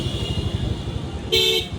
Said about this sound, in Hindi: देखो कितना ट्रैफिक मिल रहा है